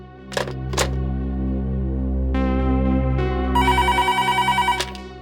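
A telephone rings with repeated electronic trills, fairly close and loud, over a low steady hum with a couple of sharp clicks early on.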